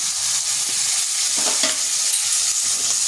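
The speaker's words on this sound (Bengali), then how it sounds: "এরপর ভালোভাবে কষে নিচ্ছি" Soaked chana dal being sautéed in a pan for vegetarian bottle gourd curry, with continuous loud sizzling and the scrape of a stirring spoon throughout, and no voices.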